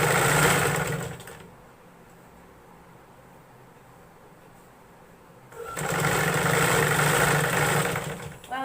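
Sewing machine stitching folded-over fabric, a loud close motor whirr that runs about a second, stops for several seconds of quiet, then runs again to the end.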